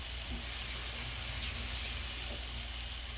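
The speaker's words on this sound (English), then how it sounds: "Let me wash my hands." Tap water running steadily into a sink while hands are washed in a home kitchen, a constant close hiss with no talk.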